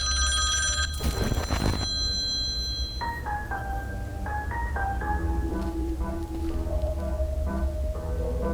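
A telephone rings in a spooky video game, bright repeated bell trills over a steady low hum, followed by a plinking melodic sequence of tones.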